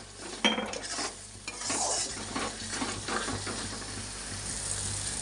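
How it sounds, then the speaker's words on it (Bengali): Spice masala with Kashmiri chili powder and cumin sautéing in oil in a pan for a chicken dish, with steady stirring and scraping over a continuous sizzle, close and moderately loud, no voices. "এখন এইটা ভালোভাবে কষিয়ে নেব।"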